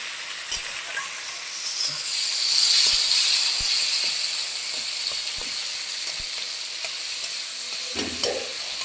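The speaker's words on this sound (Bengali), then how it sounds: "মশলাটা দিয়ে দিলে মশলাটা কষানো হচ্ছে" Spices and tomato frying in a pan while being stirred, giving a steady close sizzle and hiss with small scraping clicks, then a louder clatter near the end; no one speaks.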